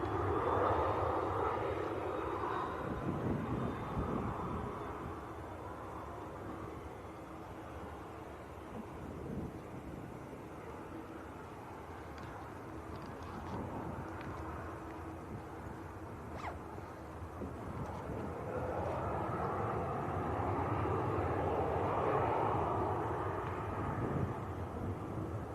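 An Etihad airliner at Manchester Airport rumbles at a distance, a broad low roar that swells, dips in the middle and builds again toward the end, with wind buffeting the microphone throughout.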